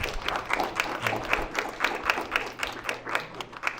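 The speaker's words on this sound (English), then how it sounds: "Please another applause to Dr. Makbul." A crowd at a candidate forum applauds steadily, a dense patter of many hands clapping at a moderate level for a few seconds.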